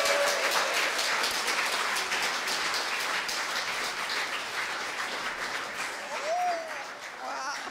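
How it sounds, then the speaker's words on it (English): A church congregation at a Sunday service breaks into sustained applause, dense clapping that slowly tapers with a few voices underneath. "Let's give them a round of applause."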